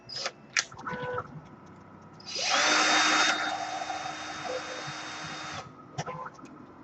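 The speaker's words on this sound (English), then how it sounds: "I'm going to go ahead and take my drill and tighten these screws down." A power drill whirs in one sustained burst of a few seconds, loud and close, with a few clicks and knocks before and after.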